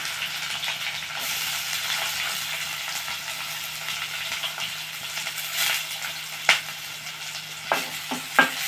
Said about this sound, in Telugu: కొంచెం జీలకర్ర వేస్తున్నాను కొంచెం ఆనియన్స్ కొన్ని పచ్చిమిర్చి కూడా వేస్తున్నాం అండి